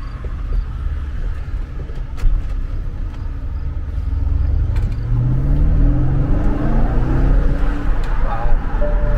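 A 2011 BMW X6 50i rolls down a street over bumpy pavement, with a low engine rumble that rises as it accelerates, plus road and suspension thumps; a person talks faintly at times.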